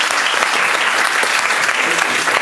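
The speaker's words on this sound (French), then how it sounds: "Je propose d'applaudir l'artiste." An audience of about sixty people at a public speaking masterclass applauds a speaker, giving a dense, steady wash of clapping that stays loud and even from start to finish.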